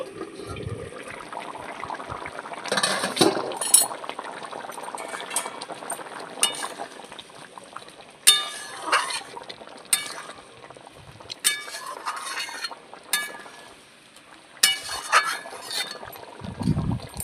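Metal lid lifted and set back on a kadai of simmering mutton curry, giving several sharp clinks and clatters over a steady bubbling, liquid background, close and fairly loud.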